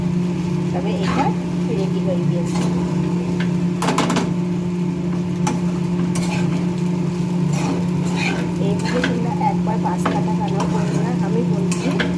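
Carrot pasta sprinkled with salt is mixed in a pan: close scraping and clinking strokes over a soft sizzle and a steady low hum, with a voice talking at times.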